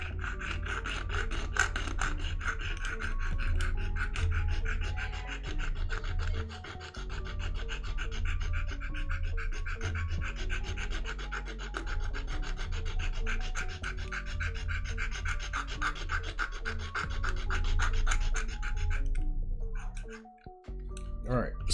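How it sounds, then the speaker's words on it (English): A metal file rasps across the mold line of a plastic MG FAZZ model kit part in steady back-and-forth strokes, close and crisp, then stops abruptly near the end. "I'm gonna try a more, how you say, a rougher one, a metal file"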